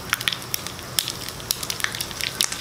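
A teaspoon of mustard seeds sizzles in warm cold-pressed oil, a steady hiss broken by sharp, irregular pops and crackles, close up and on its own.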